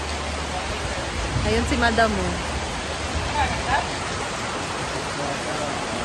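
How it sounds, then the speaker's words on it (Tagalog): Steady rain hisses evenly throughout, with a person speaking briefly over it partway through. "Umuulan dito sa amin."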